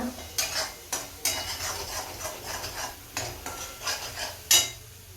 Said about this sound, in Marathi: चांगलं परतू देते थोडं तेल सुटले दे